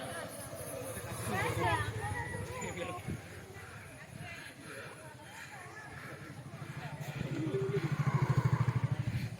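A motorcycle engine runs close by at a college cultural fest, its rough rumble rising and throbbing louder near the end while people talk over it.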